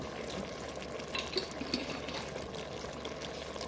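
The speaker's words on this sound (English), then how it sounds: "I'm going to stir that up" Hungarian goulash being stirred in an Instant Pot, wet sloshing and scraping from a spoon moving through thick liquid, quiet and close, with a couple of louder clinks near the middle and no speech.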